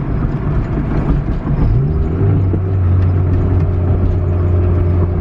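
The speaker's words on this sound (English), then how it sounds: "She spools up, honestly, surprisingly fast." Inside a moving turbocharged Honda Civic EF with aftermarket cams, the engine drones low, then a steady whirring tone from the turbo rises and holds over the road rumble.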